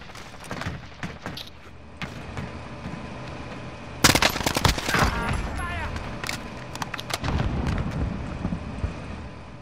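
Rapid gunfire bursts in Call of Duty Cold War Warzone, scattered light shots early then a loud sustained volley of automatic fire mid-clip, with game effects and muffled voices around it.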